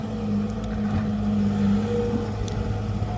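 A SANY SY135C excavator of about 13.5 tonnes, with a four-cylinder Isuzu engine, digs soil to level ground for a fence. Its engine rumbles low and steady, close and continuous, with no talking.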